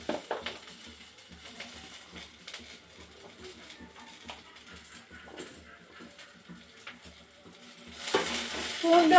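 Garlic and onion fry quietly in a pan for a spicy chutney, a soft sizzle with occasional stirring clinks that swells louder toward the end.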